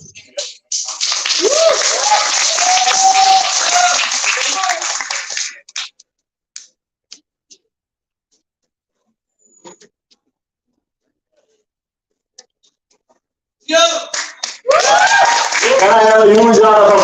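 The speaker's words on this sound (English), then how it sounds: "Can I have a huge round of applause for Anurag Singh?" Audience applause for a student recitation at a college event, a loud sustained burst of clapping for about five seconds, then near silence with scattered taps, then clapping starts again mixed with voices.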